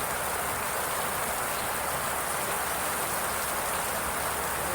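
Heavy rain pours in a dense, unbroken hiss, steady and loud, with no voices.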